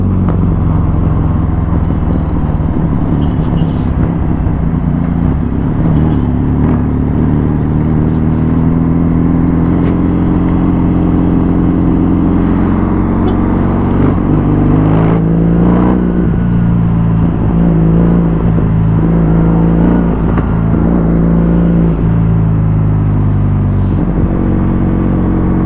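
A Kawasaki motorcycle on an Indonesian test ride runs a loud, continuous engine drone with shifting pitch and wind rumble, no voices over it.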